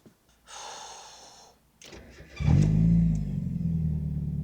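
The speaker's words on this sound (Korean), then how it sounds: "그러면 시동 걸어볼까요?" A 32-year-old Mazda Miata engine, freshly repaired after heavy oil leaks, cranks with a strained whirring, then catches and settles into a loud, steady low rumble that keeps running.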